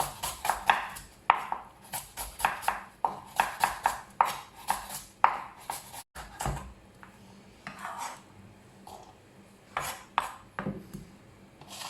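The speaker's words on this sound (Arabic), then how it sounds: "دابا نقطع البصله" A knife chops onion on a board in a home kitchen, sharp rhythmic taps in quick bursts with brief pauses between runs, close and fairly loud, with no talking.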